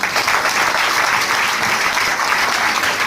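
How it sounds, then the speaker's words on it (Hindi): At an AWPL direct-selling company gathering, a large crowd bursts into loud, vigorous clapping that stays thick and continuous from start to finish. "ये बस जोरदार ताली पहले हो जाइए आप लोग"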